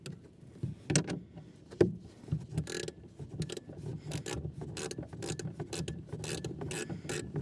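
A hand ratchet being turned back and forth to loosen and then tighten, during window-tint work on a Kia K5, giving steady close rasping clicks with a few sharper knocks.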